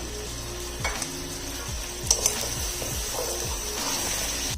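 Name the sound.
stock splashed onto frying spices for mutton pulao, sizzling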